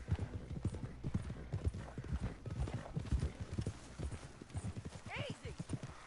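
Horse hooves clip-clop in a steady walking rhythm in the video game Red Dead Redemption 2, with a short whinny near the end.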